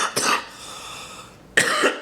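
Two bursts of harsh coughing from a person who is sick, one short cough near the start and another sharper one after a quiet pause, close and fairly loud with no talking.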